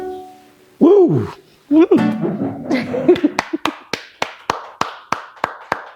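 After a short burst of singing, a small audience at a music performance claps in a string of about a dozen sharp, evenly spaced claps, close and distinct rather than a dense ovation.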